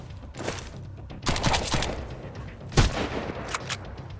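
Enemies spraying gunfire in the survival shooter Sunkenland: several loud, rapid bursts of shots crackling over a constant low background rumble, with a heavy burst near the middle and smaller flurries after it.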